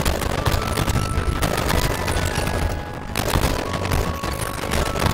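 Dense, sustained automatic gunfire in the mobile shooter Warzone Mobile, loud bursts rattling almost continuously with a brief dip around the middle, no talking.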